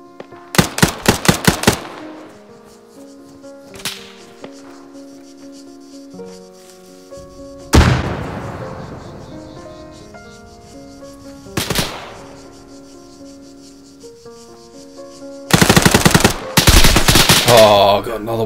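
Gunfire in the military shooter game ArmA 3: several rapid bursts of automatic fire and single loud shots, spaced across the stretch, with background game sounds and tones between them and a dense volley near the end.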